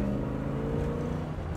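A 1965 Chevrolet Corvette convertible with a 327 V8 rated at 350 horsepower rumbles loudly and steadily under throttle, a deep continuous engine roar heard from close by.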